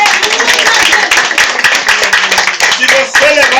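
Congregation clapping loudly and close at a countryside evangelical church service in Correntinho, Minas Gerais, with rhythmic hand claps under raised voices and singing-like cries.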